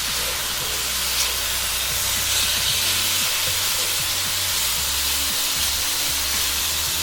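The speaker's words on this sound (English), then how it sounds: "we're just going to add the chorizo back in." Chorizo sizzles and hisses steadily in a cast iron dish while being stirred, a loud continuous fry under a low background rumble.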